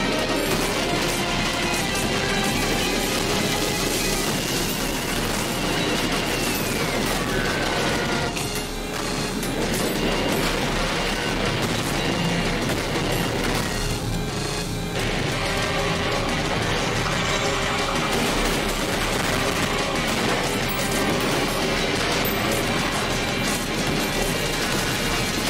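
Gunfire in the fast-paced video game Ultrakill forms a dense, loud, nonstop barrage of shots, crashes and impacts, layered with game music and effects throughout.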